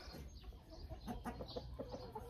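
A hen in a coop gives a short run of soft, quiet clucks, close by, with no talk.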